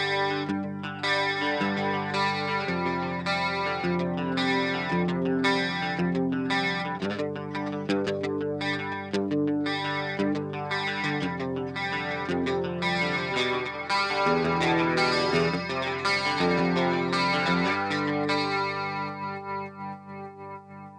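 A Boss Dimension C chorus pedal clone set to mode 3 colours a sustained, layered instrument part with wide, shimmering chorus, playing steadily and loudly throughout without any talking.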